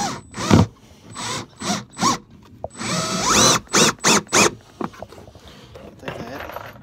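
A power drill whirs in several short, closely spaced bursts with brief pauses between, near and loud, ending in quieter mechanical clicks.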